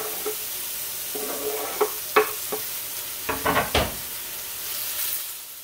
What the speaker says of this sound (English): You hear that sizzle? That's what you wanna hear